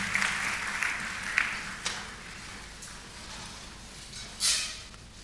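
A church congregation applauding after a sermon reading, scattered clapping that swells and fades in short bursts and sounds moderately distant, with a louder burst near the end.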